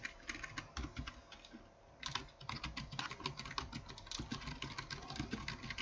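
Steady keyboard typing while a chart title is entered in a spreadsheet, with dense clicking keystrokes in bursts, a short pause near the two-second mark, and a low background hum underneath.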